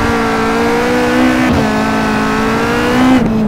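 A Caterham 620R sports car thrashed around a kart track, its engine loud and close in a sustained high rev, pitch wavering through gear changes, with a brief sharp drop near the middle and another shift toward the end.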